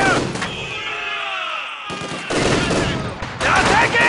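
Enemy MG-42 machine gun fire rattles in Company of Heroes 2 as loud, dense bursts of automatic gunfire with brief gaps, under faint battlefield voices.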